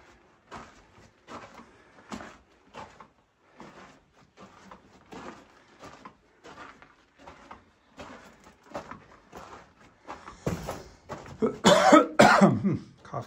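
Repeated coughs sound in short bursts inside a mine, quiet at first and then growing louder and harsher near the end.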